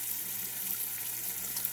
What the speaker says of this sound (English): So I'm going to fill them with cold water again.